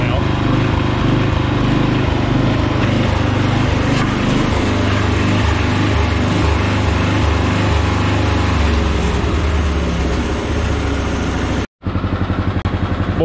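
Toro Wheel Horse lawn tractor engine idling close by, a loud, steady, chugging putter that runs throughout with a brief cut near the end, and voices faint beneath it.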